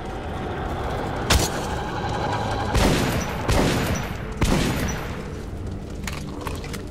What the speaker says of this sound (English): I better use the shotgun because there is a lot of that ammo around